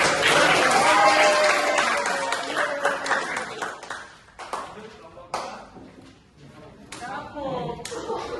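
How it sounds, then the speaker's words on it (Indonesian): Schoolchildren in a classroom break into loud clapping that tapers off into scattered claps, with children's voices and chatter mixed in. "anak-anak beri tepuk tangan buat"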